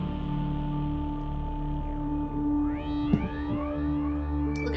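A cat meows several times in rising, drawn-out calls over a steady crackling background, close and fairly loud.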